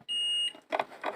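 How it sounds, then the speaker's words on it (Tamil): A single steady electronic buzzer tone from an Ahuja 250 W amplifier under service sounds for about half a second when touched, followed by faint rustling and handling noise. "இப்போ டச் பண்ணால் பசர் சவுண்ட் வரும்."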